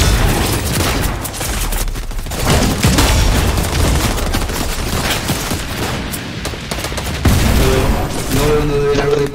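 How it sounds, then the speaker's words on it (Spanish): Dense gunfire in Fortnite crackles nonstop, bursts of rapid shots and booms overlapping in a loud, chaotic firefight. "Hay mucha gente disparando"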